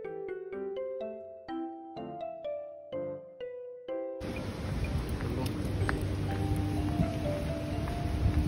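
Steady rain falls loudly with a dense hiss of drops, coming in abruptly after a few soft chiming tones.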